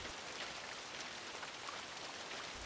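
Pouring rain falls outside in a steady, even hiss of countless drops, soft and continuous throughout with no voices.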